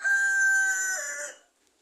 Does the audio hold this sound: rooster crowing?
yes